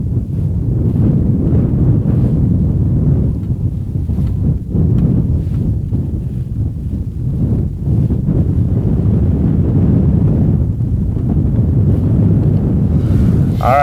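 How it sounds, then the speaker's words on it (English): Strong outdoor wind buffets the microphone in a continuous loud roar during an Idaho elk hunt, rumbling steadily without pause and with no voices. "Scott, the wind's blowing, the smoke is rolled in."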